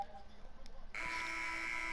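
An end-of-game basketball buzzer in NBA2K21 cuts in partway through and holds as a loud, steady electronic tone over a background of game crowd noise.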